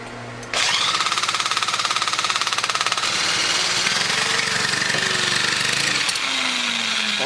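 A scrapped Craftsman 4-stroke weed eater engine fires up abruptly after half a second of quiet and keeps running loud and close, its rapid chugging idle wavering in pitch as the throttle shifts.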